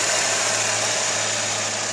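A 1995 Ford Cobra Mustang with a 5.0 engine idles, close by, as a steady, even rumble with no voices over it.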